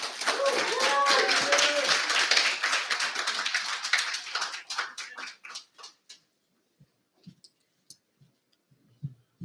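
Audience applause at a Pasifika Fusion 2024 speech event, a loud dense burst of many hands clapping that thins into scattered claps and fades out by the end.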